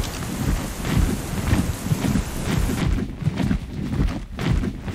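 Heavy rain in the video game Ark, a dense rushing downpour with low rumbling surges like distant thunder rolling underneath, continuous and fairly loud with no voices.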